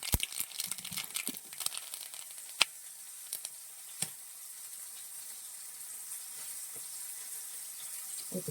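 Mustard seeds splutter in hot oil for a Kerala pearl spot curry, with scattered sharp pops and crackles over a quiet sizzling hiss, a few louder snaps standing out before the frying settles into a steady faint hiss.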